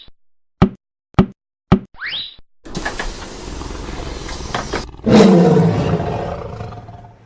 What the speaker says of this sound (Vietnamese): Con hổ